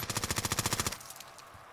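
SMG fire in a video game: a single rapid burst of about fifteen evenly spaced shots lasting just under a second, loud and close, followed by a fading tail.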